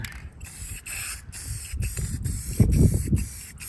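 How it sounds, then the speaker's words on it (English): Rust-Oleum gloss black spray paint hisses onto the underside of a John Deere 100 mower deck, a close, steady aerosol spray broken into short repeated bursts with faint handling noise below. "Right now I'm gonna work on painting underneath the deck right now."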